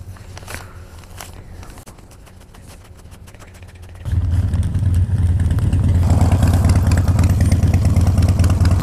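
A motorcycle up for sale takes off on a test ride, its engine rising from a quieter idle to a loud, steady running rumble about halfway through, with earlier footsteps and shuffling before the engine takes over.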